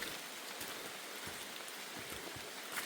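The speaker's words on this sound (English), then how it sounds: "I just keep waiting for the rain to subside" Steady rain falling and pattering on surfaces on the Appalachian Trail in North Carolina, a continuous hiss with scattered drips, no voices.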